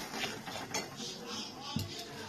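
A mustard-poppy spice paste for pabda fish cooks in a pan, with quiet stirring scrapes and light utensil clinks against the metal and a low background hiss, no talk.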